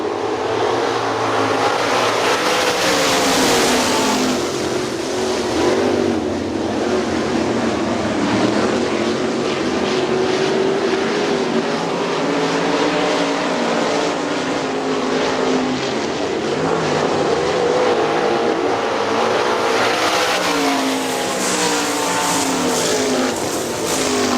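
410 sprint cars roar around Hartford Speedway Park in Hartford, Michigan during a Super Sprint heat race in 1999, engines droning loudly and steadily as they rise and fall in pitch while the pack passes.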